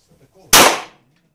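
A single handgun shot fired on command at a shooting range: one loud, sharp crack close by that decays over about half a second, with faint voices just before it.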